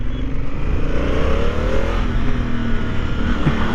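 A Honda Africa Twin motorcycle engine pulls hard under acceleration in its sportiest riding mode, a steady loud roar with rising pitch and broadband wind rush throughout.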